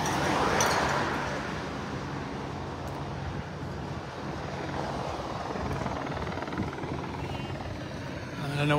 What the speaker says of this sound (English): the helicopter hovering over the peloton as they go down Hawthorne Road in the direction of Mount Barker